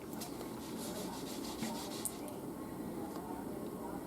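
Heat transfer vinyl rubbed by hand onto toilet paper atop a heating element, a steady close scratchy rubbing with a few brief clicks, continuous and fairly soft.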